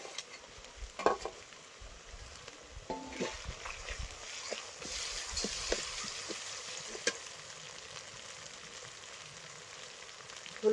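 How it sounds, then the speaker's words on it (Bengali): Chili paste frying in a pan while cooking methi chicken, a soft continuous sizzle with scattered stirring scrapes and taps, close and moderately quiet, with no talk. "এবার লঙ্কা বাটা দিয়ে দেবো।"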